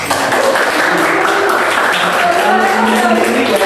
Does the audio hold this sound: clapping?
yes